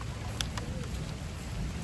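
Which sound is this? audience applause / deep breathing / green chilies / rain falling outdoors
rain falling outdoors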